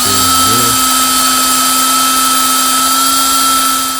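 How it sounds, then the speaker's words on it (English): Power tool with a wire brush cleaning a rusted brake pad on a John Deere 42-inch mower deck blade brake, a loud steady whine that holds a constant pitch after a brief starting wobble. "So I'm gonna run some sandpaper on that, maybe a wire brush, clean that all up."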